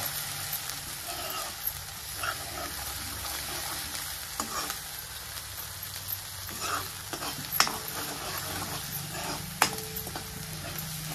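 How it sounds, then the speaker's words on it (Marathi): Masala sizzles and fries steadily in hot oil in a pan for an egg curry, with occasional scraping stirs and small clicks of a spoon against the pan, close and continuous with no talk. "मसाला आपण सगळा भाजून घेतल्यामुळं इथं लवकर भाजला जातंय, उशीर लागत नाही."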